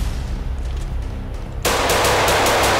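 A quiet stretch breaks into rapid, loud automatic gunfire in the Roblox game Southside Chicago, the shots running together in a dense burst until the end.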